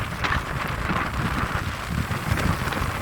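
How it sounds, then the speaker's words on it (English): Strong Hurricane Fiona wind gusting through Hartlin Settlement, a loud, steady broadband roar with rain-like hiss and buffeting against the microphone, no voices. "look at the wind here"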